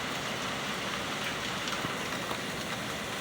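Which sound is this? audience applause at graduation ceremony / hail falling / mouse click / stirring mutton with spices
hail falling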